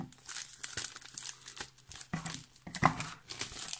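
Stampin'Up card kit packaging being opened, with crinkling and tearing of plastic and paper in close, irregular bursts, a few sharper rips standing out.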